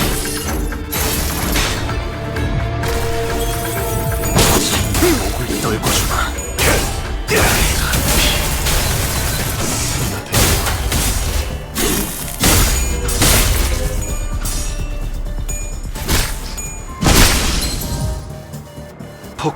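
Crackling firecracker-like bursts and clattering impacts go off in the Limbus game, loud and dense, with repeated sharp pops and crashes layered over a steady mechanical din.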